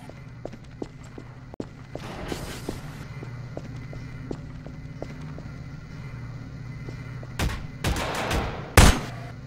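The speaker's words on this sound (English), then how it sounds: "why are you shooting at the floor?" Gunfire in a Prop Hunt game aimed at the floor: scattered single sharp shots popping at irregular intervals over a low steady hum, with a louder burst of several shots toward the end.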